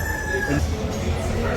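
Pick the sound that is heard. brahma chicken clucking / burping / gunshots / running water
brahma chicken clucking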